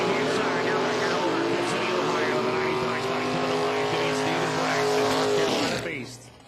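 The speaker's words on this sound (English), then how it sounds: "Here we go, firing up the next pair of Nitrous." Nitrous drag race car, the 95 car of David Braxton's North Carolina-based team, firing up at an elimination event: a loud, sustained, rough engine roar with rising harmonic tones, steady for several seconds before cutting off abruptly near the end.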